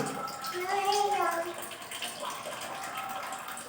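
Water running from a tap into a bathtub, a steady broadband rush that holds throughout at moderate level while a voice talks over it briefly.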